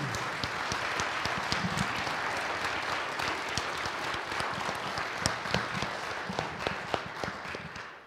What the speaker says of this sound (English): I invite you now to give him a round of applause and welcome him.